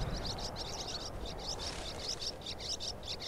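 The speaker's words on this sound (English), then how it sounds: "Lots of birds." Birds chirp in rapid repeated bursts throughout a Skyrim outdoor scene near Dragon's Reach, bright and steady over a low ambient rumble, with no talking.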